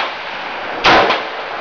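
A single sharp, loud rifle report from a stout gun chambered in 7.55 cracks out once outdoors, with a short tail of echo over a steady background hiss.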